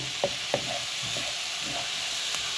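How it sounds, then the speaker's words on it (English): Onions sweating in a frying pan with red wine cooking off, a steady close sizzle with a few light stirring scrapes and taps. "I'm just basically sweating it off. Take the rawness out of the onion."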